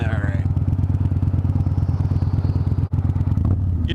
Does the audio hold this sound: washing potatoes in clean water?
no